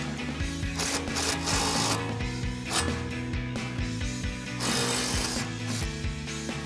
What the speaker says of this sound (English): we're gonna grab our impacted 18 millimeter socket and take our nut off our sway bar link here